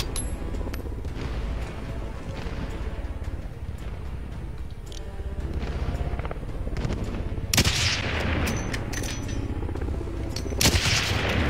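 Sniper shots and bursts of machine-gun fire sound in a shooter video game, dense and continuous with a few sharp, loud blasts standing out near the end.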